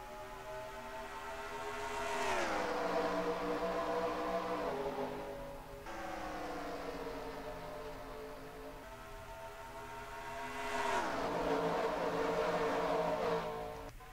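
Race cars in a NASCAR video game at Homestead roar past at a moderate distance, their engine tones sweeping downward in two distinct pass-bys with a steadier drone between them.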